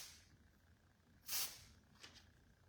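Miss Mess hair product sprayed at the base of long hair while it is lifted for volume, one close, loud hissing burst of about a quarter second followed by two fainter, shorter puffs.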